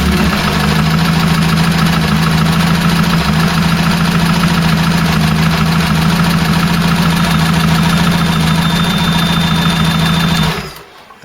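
A Ford Cortina GXL engine with a rebuilt head idles steadily and loudly for about ten seconds with a tappy valve clatter, then cuts out near the end.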